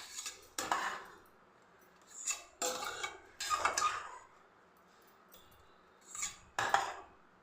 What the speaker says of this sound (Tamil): சும்மா அப்படி கரண்டிலே வச்சு மசிச்சு விட்டேன்